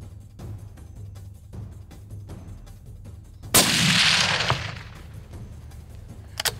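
A single loud rifle shot at a waterbuck bull on an African safari cracks out near the middle, followed by a long rolling echo that fades over about a second, with faint outdoor background before and a couple of small clicks after.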